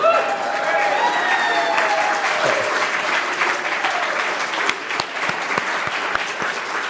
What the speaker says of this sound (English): Can everyone else stand up and cheer, please?